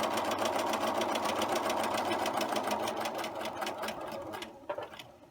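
A sewing machine stitches a straight seam in a fast, steady run of needle strokes at close range. It slows and stops just before the end, with no voices.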